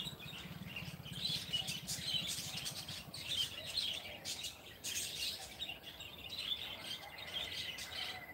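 Several small birds chirp and tweet in a large home aviary, a busy overlapping chorus of bright calls at moderate distance with some faint rustling, and no voices.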